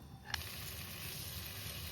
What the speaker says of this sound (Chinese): 现在噼里啪啦的声音哈，然后我们就给它翻面。